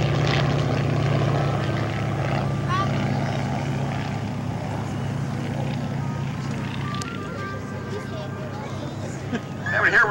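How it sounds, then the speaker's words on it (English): A propeller biplane flies at an afternoon airshow of vintage primary trainers, its engine a steady droning hum throughout, with an announcer talking over it. "This is the only biplane we have flying here this afternoon."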